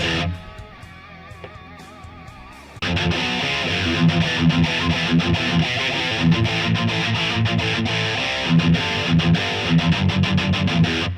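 Heavily distorted electric guitar through a simulated Marshall JCM800 amp, set for a classic metal tone with gain near 6, delay off and low reverb: a quieter clean-ish lick, then loud chugging palm-muted riffing that stays dense and steady.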